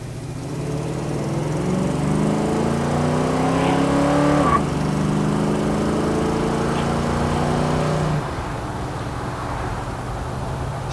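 A 1967 Pontiac GTO engine drones steadily with a deep, throaty hum while driving, its pitch rising slightly before the sound drops away abruptly near the end.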